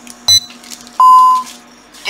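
An ADT Ademco Vista alarm keypad disarming: a short high beep, then one longer steady electronic tone, with faint talk and room noise around it.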